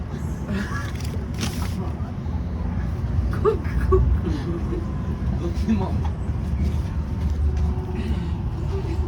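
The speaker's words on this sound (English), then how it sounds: "This is Tram 18." Geneva tram line 18 rolling through the city in the afternoon, a steady low rumble of the vehicle with faint squeals and brief voices in the background throughout.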